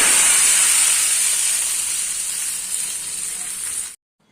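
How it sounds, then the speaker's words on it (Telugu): A tempering of hot spices hits a pot of boiled lentil soup (pappu charu) and bursts into a loud, steady sizzling hiss for about four seconds before cutting off abruptly. "ఇంకా అందులోకి అయితే తాలింపు అయితే వేసుకుంటున్నాను."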